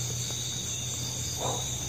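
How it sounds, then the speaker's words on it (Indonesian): Crickets chirp in a steady high-pitched trill that runs continuously under a low background hum, with no talking. "Dari jangkrik kali."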